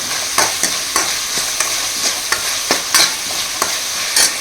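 Garlic and curry leaves frying in a pan with a constant loud sizzle, broken by repeated sharp scrapes of a spatula stirring at a steady rhythm, close and with no talk.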